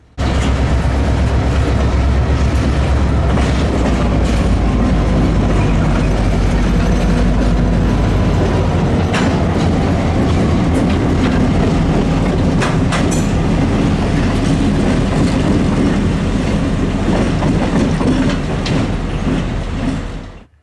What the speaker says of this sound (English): As the train was slowing down, I walked up to the crossing for a closer view of the reverse move.